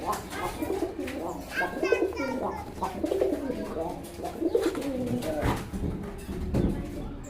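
A red Bombay pigeon coos in soft, repeated low calls, close by, while someone talks over it throughout.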